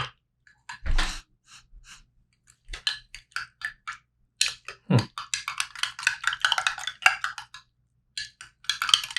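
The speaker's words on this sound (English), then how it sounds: "So let's shake this up, stir it around." Shaking and stirring of an MRE raspberry drink pouch, heard as scattered rustles, clicks and a couple of low thumps, then a dense run of crinkly scratching and stirring sounds, close and fairly quiet.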